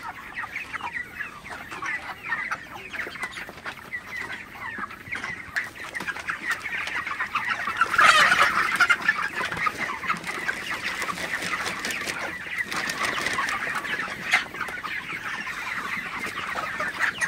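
Many broiler chickens in a farm shed at night cluck and chatter continuously as a dense flock, with one louder burst of squawking partway through and no speech.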